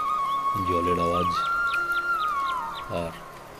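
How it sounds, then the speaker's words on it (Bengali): Bird calls in a forest at Chapramari in the Dooars, a long whistled note with short repeated chirps, heard over a steady background and partly under a person's voice. "পাখির ডাক"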